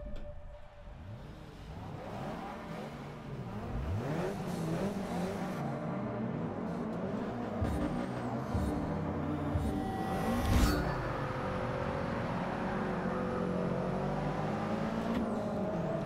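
A Ford Focus race car engine drones and revs steadily through a lap in Forza Motorsport 6, pitch rising and falling with gear changes, and another car briefly swells past near the middle.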